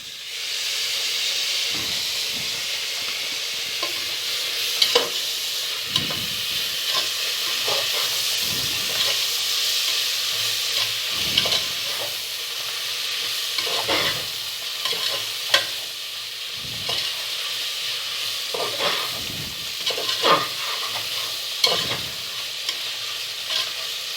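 Onions and spices sautéing in a pan for beef biryani: a steady, hissing sizzle close by, with periodic scraping stirs of a spoon against the pan and occasional metallic knocks throughout.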